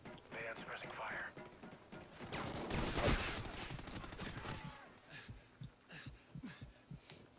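Sustained suppressing gunfire in the Call of Duty Ghosts campaign, a loud burst of rapid automatic shots peaking midway, then scattered shots, with game voices talking over the action.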